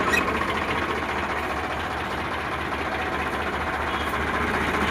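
A used 2011 tractor engine runs steadily nearby, a constant loud low diesel rumble that neither rises nor falls and has no talk over it.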